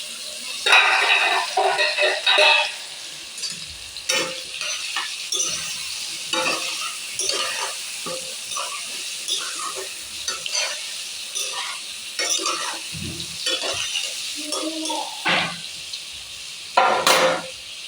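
Tomato and capsicum for an Assamese chicken curry fry and sizzle in a pan while a spoon stirs and scrapes, with irregular clinks and scraping strokes over a soft, steady sizzle.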